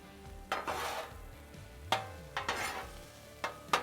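Asian-style beef stir fry with island stir fry seasoning tossed in a pan, several sharp utensil scrapes and clanks in uneven bursts over a faint sizzle, close and fairly quiet, nobody speaking.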